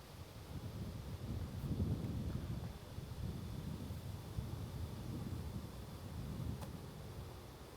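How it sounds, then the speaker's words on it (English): Wind blows across an outdoor disc golf course at a tournament, a steady low rumbling buffet on the microphone that swells and eases over several seconds, with no voices heard. "And obviously the wind is not helping either."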